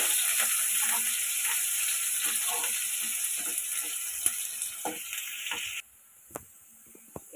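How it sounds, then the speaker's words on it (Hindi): Onions fry in hot oil for an Odia rohu fish ghanta, a continuous close sizzle with faint stirring scrapes that suddenly stops near the end, leaving a few soft clicks. "पियाज भल जारिया"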